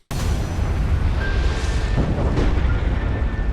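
A Zelda game cinematic opens on a sudden, very loud explosion that hits at once and gives way to a sustained, heavy rumble with faint tonal soundtrack elements underneath.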